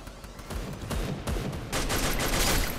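Rapid bursts of M249 machine-gun fire in the Free Fire video game, a dense, continuous rattle of shots that grows louder and more intense over a few seconds.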